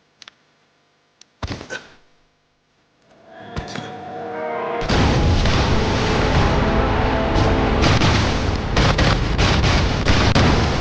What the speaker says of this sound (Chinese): 日军对阵地的轰炸太猛烈了！